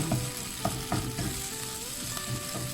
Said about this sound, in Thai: เอาละเราจะผัดน้ำพริกแกงให้หอมเลยนะคะ